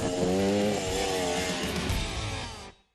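Off-road motorcycle engine revving hard, a loud, steady, close buzzing roar that holds for a few seconds and then cuts off abruptly, with no voices.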